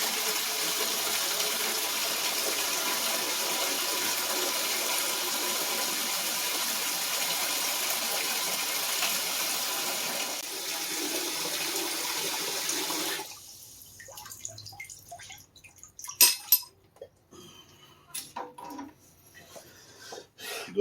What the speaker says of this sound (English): turn our cold water on just a little bit.